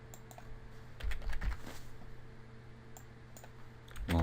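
Quiet keystrokes on a computer keyboard, a few scattered taps followed by a short quick burst of typing, heard close against a faint steady background hum.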